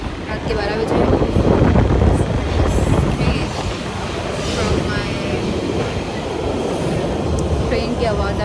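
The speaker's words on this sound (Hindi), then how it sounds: "ट्रेन की आवाज़ आ रही है पीछे से" A train rumbles loudly and continuously at night in London, with steady rail roar, wheel noise and occasional squeals, plus wind buffeting the microphone, while someone talks over it.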